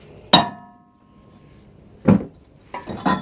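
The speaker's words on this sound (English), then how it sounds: "Okay, magic hammer to the rescue." Three sharp hammer strikes on metal during a rear wheel bearing replacement on a 2006 Mazda Axela, the first ringing out briefly, then two more after a pause, with a quiet room between them.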